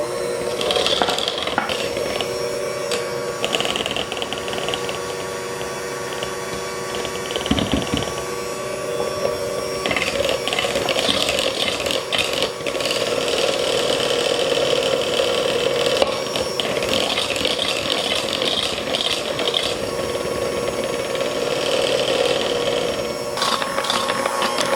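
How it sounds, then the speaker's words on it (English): Electric mixer steadily whirring as it blends flour into banana cookie dough, a continuous close mechanical drone with a brief bump near the middle and no talking. "Now I'll slowly add the flour mixture in. And mix this together."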